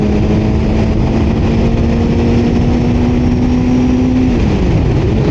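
A motorcycle engine held at moderate throttle while riding, a steady loud drone with a sustained tone that drops near the end, wind and road noise mixed in.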